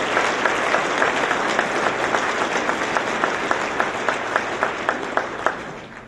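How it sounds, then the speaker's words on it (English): Audience applause at an Akron Roundtable luncheon for Mayor Dan Horrigan's cabinet, a steady wash of many hands clapping with a few sharper individual claps standing out, no talking. "You wouldn't applaud for my wife, but you applaud for cabinet."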